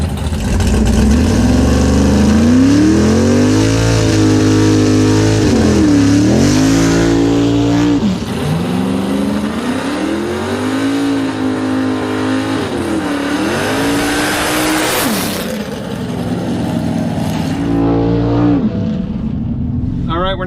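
A Tesla Plaid and a 1964 big-tire Pontiac GTO drag racing side by side, loud engine roar rising and falling through repeated revs and hard accelerations close by, with people talking over it.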